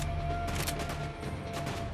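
Bursts of rapid gunfire crackle in a dense, noisy soundscape of shots exchanged in a multiplayer shooter video game, with no talking.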